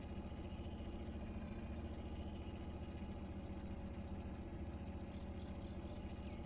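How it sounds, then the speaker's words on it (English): A video game car engine idles in a low, steady, even rumble that stays constant and faint from start to finish. "Let me turn my engine off."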